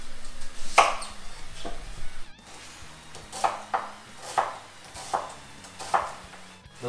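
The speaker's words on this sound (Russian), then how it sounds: "теперь режу репчатый лук" A knife chops onion finely on a board in a home kitchen, with a few sharp separate cuts spaced irregularly, fairly quiet and close, and little else heard.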